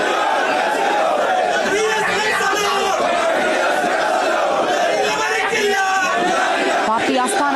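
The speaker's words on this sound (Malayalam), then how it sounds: "അദ്ദേഹത്തിന്റെ ആവേശമായിരുന്ന ആൾക്കൂട്ടം ചുറ്റും നിന്ന് മുദ്രാവാക്യം വിളിക്കുന്നത്" A large crowd shouts slogans in unison around an ambulance carrying the body of the leader V.S. on its last arrival at the party headquarters. The chanting is loud, rhythmic and continuous, with many voices overlapping and a murmur of chatter beneath.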